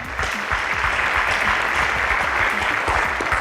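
Audience applauding the Nigerian Tulip school team at a quiz contest in Abuja, a full, continuous burst of many hands clapping, loud and close, sustained evenly across the whole stretch.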